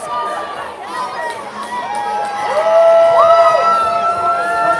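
A crowd at a 10U youth ice hockey game cheers after a goal that ties the score, with shouts, children's yells and whoops rising and swelling toward the end, close and loud.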